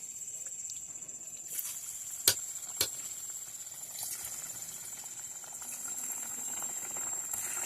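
Pakan pitha cakes fry in hot oil, five at a time, with a steady bubbling, hissing sizzle throughout, close up, and a couple of sharp clicks early on, with no voices.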